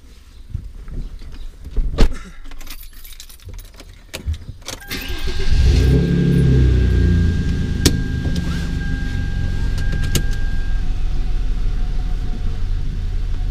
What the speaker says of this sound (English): So I'm gonna drive around a block and do a quick little review